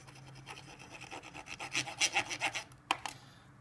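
Cotton swab rubbed back and forth across the contacts of a SNES game cartridge during cleaning, giving close, quiet rhythmic scratchy strokes over a faint hum and ending with a sharp click.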